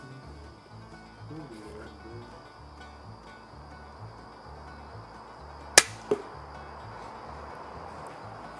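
A tiny hunting crossbow fires a broadhead arrow, one sharp snap followed a moment later by a fainter thwack, both brief and close against a quiet outdoor background with insects.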